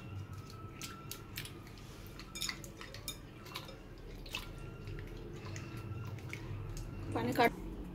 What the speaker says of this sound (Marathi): यालाही स्वच्छ एका पाण्याने धुवून घ्यायचे आहेत.